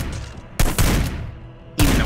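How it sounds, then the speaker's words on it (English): Shotgun blasts in the video game Hitman: Blood Money, three loud booming shots spaced unevenly across two seconds, each with a sharp attack and a rumbling decay, amid background game ambience. "Even though it's a shotgun, it's still easy to miss."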